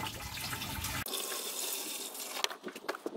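Water poured into the tank of a Sealey 12V rechargeable pressure washer, a close splashing rush that gives way to quieter trickles and a few small splashes near the end.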